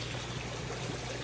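Water flows steadily into a concrete crayfish pond, a soft continuous trickling and splashing without pause, fairly quiet and with no voices.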